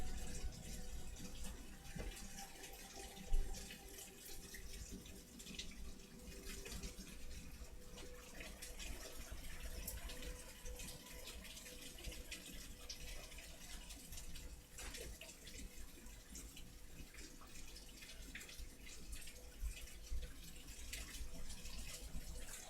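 Steady heavy rain pours outside during a thunderstorm, a dense continuous hiss picked up by a microphone indoors, with a single louder knock early on and no talking.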